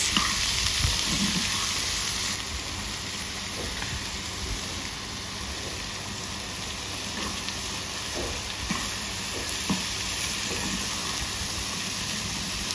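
Peanuts, nigella seeds and fenugreek are stirred and fried in a pan with onion and green chilli for a bhorta, making a continuous soft sizzle with occasional faint scrapes of the spatula, steady throughout and fairly quiet. No one speaks.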